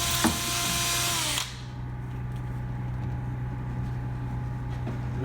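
A power drill whines loudly for about a second and a half, boring holes for screws into a new Ranger bass boat during a seat and coin box install, then cuts off, leaving a steady low hum.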